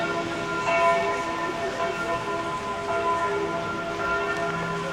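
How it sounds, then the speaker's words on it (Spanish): Church bells ringing at noon in a Swiss valley town near Lauterbrunnen, a steady sustained peal heard from a distance, faint and continuous over light outdoor ambience. "Ya son las 12. Por eso suenan las campanadas."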